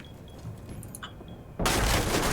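Video game gunfire erupts as a sudden, loud, sustained burst of rapid shots partway through, following a quieter stretch of faint background game sounds.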